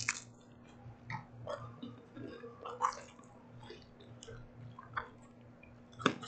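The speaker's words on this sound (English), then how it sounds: "Sorry for my chewing." Close, quiet chewing of food: soft wet bites and clicks come in an irregular rhythm over a low steady hum, with no talking.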